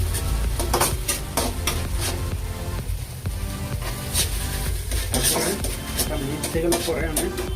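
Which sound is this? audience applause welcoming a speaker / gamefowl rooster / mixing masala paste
mixing masala paste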